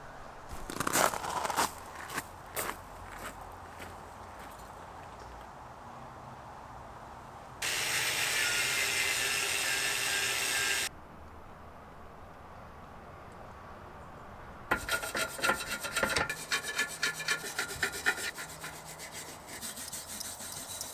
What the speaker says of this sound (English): So I'm going to get all the rust off with the angle grinder